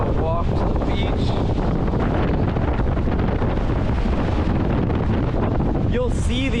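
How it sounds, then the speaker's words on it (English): Strong gusting wind on the Patagonia W-Trek, a loud, continuous roar buffeting the microphone throughout with a near beach setting; brief faint sounds poke through near the end. "It's insanely windy out there."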